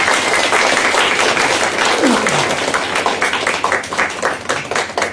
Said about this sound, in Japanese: もう一回大きな拍手をお願いします。